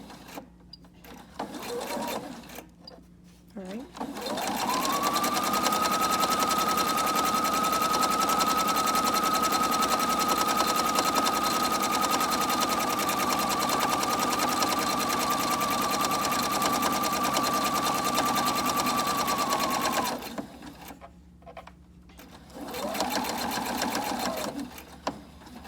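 A sewing machine runs in one long steady burst of stitching forward and back, holding a bright, even whine for about fifteen seconds, with short quieter runs before and after and a voice speaking briefly between them.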